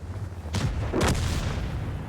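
Two heavy booming blasts of artillery fire in a tank video game with the Taschenratte, in quick succession, deep and rumbling, with the second one longer and louder.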